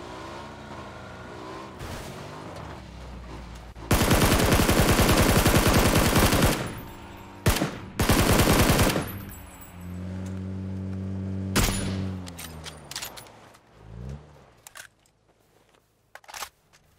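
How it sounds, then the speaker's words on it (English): Bursts of automatic gunfire from the battle royale video game PUBG, played on Xbox One: long, loud sustained rapid-fire volleys with shorter bursts between them, then quieter in-game effects fading out. "Oh, the other guy's shooting me now."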